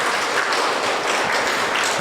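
An audience at a Geeta Gyana Yagna talk breaks into a single burst of applause, a dense steady wash of many hands clapping together for about two seconds, loud and close, with no voices over it.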